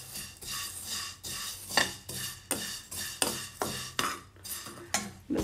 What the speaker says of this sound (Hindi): भून रही हूँ अभी मैं इन्हें।